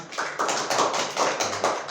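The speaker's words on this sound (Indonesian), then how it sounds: "Tepuk tangan semua" A class applauds, a fairly close patter of hand claps in a few uneven surges, moderately loud, with no talking.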